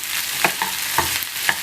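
Meat with onions and peppers frying in a pan, a steady sizzle broken by a few sharp stirring scrapes, close and fairly loud with no talking.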